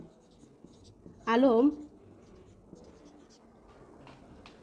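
Handwriting on paper while an accounting explanation is written out: a soft, scratchy scribble runs quietly beneath the scene, briefly interrupted by one short spoken word.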